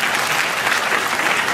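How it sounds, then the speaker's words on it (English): Dense, steady applause from an audience welcoming Pirate Party founder Falkvinge at a panel discussion, sustained at an even level throughout with no voices over it. "you can applaud also for Falkvinge"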